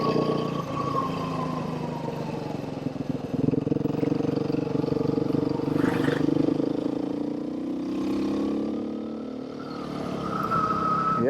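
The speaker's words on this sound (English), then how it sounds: "it feels good to be back on a proper dirt bike" A Beta 390 dirt bike engine roars steadily while riding, its revs rising and falling in a continuous close, loud drone without any speech.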